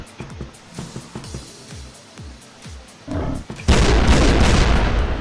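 A run of sharp gunfire-like bangs from the video game Wolfteam, followed by a heavy, sustained, glitchy explosive blast that roars loudly to the end.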